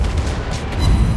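Heavy naval gunfire from World of Warships Blitz, the tier VII light cruiser USS Flint in battle: a dense, continuous rumble of booming shots and blasts, loud and close, with no talk.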